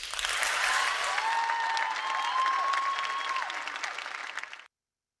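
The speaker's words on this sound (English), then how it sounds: "I see the finger snaps." Audience members at a Caribbean-Canadian community gathering snap their fingers in approval, making a dense, crackling patter that holds steady for several seconds at moderate volume and then cuts off abruptly.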